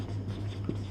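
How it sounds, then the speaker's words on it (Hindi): Brief scratchy strokes of writing on a board during a class 10 maths lesson on real numbers, set against a steady low electrical hum. "तो लास्ट में लिखेंगे इति"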